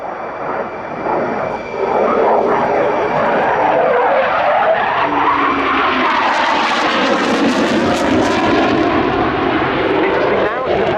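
A Eurofighter Typhoon jet flies airshow manoeuvres, its loud roaring engine rising and sweeping in pitch as it turns and passes close, with a crackling burst near the end over a faint commentary voice.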